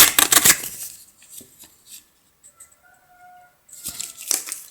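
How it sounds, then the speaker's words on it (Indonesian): A printed receipt is torn off a 58mm thermal cashier mini printer. Short, loud rasping tears burst at the start and again near the end, with faint scattered ticks and a thin mechanical whine in the quiet stretch between. "Jadi setelah tercetak kita sobek di sini."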